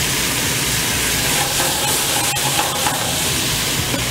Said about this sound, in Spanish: Agregamos un poco de vino blanco.